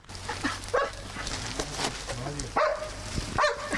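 A search and rescue dog in training gives several short barks and yelps at intervals, fairly close, with some faint background noise between them.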